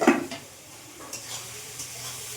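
Spices being stir-fried in a pan with a little salt, ahead of fried fish head going in: a sharp clatter of a spoon against the pan, then a quiet sizzle with a few light scrapes.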